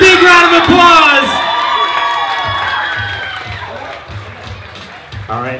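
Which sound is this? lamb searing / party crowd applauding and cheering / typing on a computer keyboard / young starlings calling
party crowd applauding and cheering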